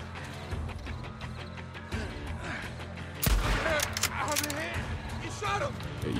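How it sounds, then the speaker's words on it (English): Enemy gunfire in Days Gone, scattered shots and a burst of sharp cracks amid game ambience, with someone talking over parts of it. "This guy's shooting at me like crazy."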